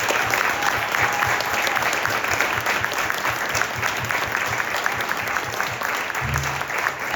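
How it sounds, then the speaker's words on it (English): Audience applause at an employee awards event, a dense, steady round of clapping from a crowd lasting several seconds without pause. "Please give them a round of applause."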